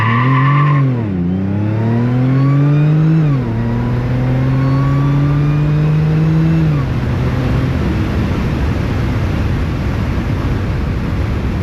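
A supercharged Audi S4 launches from a brake-held standstill at full throttle, the engine revving hard and rising through the rev range, shifting early with a dip in pitch, then climbing again before fading into rushing road noise.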